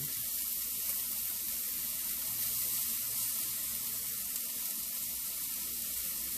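Frozen large shrimp frying in a pan give off a steady, bright hiss and crackle of sizzling oil, constant and close with no talking over it.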